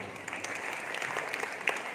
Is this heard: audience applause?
yes